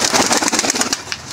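Rampuri pigeons coo inside a loft, a close, busy run of overlapping pulsing coos that fades toward the end.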